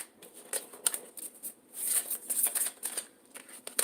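Tarot cards being shuffled by hand, a series of crisp papery riffles and slaps in irregular bursts, close and fairly quiet, with no talking.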